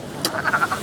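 A wood frog at a vernal pool gives a short series of four or five quick, clucking croaks in close succession, fairly near and clear over a quiet background.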